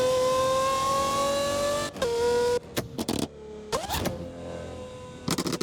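A modded Lamborghini Aventador SVJ in the racing game Assetto Corsa holds a high, loud engine whine, then drops off into a series of sharp exhaust pops and bangs with gaps between them.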